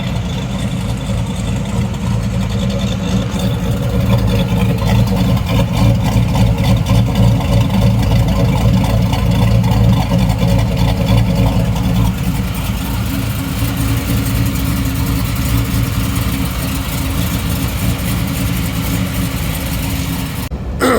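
A truck with a Best cam 4.8 V8, stock converter and tuned idle, sits idling with a choppy, uneven lope; the steady loud rumble pulses rhythmically throughout, close by, with no talking.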